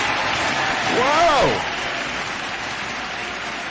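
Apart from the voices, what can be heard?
applause sound effect on a show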